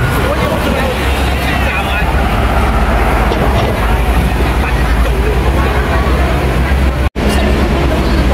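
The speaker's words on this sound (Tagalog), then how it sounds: "Enjoy watching guys sa mga tram train." A tram rolls past on Queensway road in Hong Kong amid busy street traffic, producing a continuous loud rumble and rattle mixed with crowd babble, with voices talking throughout.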